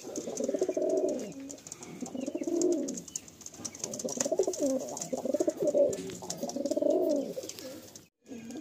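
Madrasi pigeons coo in a series of low, rolling calls repeating about every second, close and clear, with faint chirps and background noise between them.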